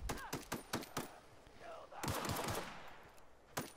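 Video game gunshots crack out in a quick run of single shots, then a louder blast with a trailing rumble, and one more late shot. Faint voices sit underneath.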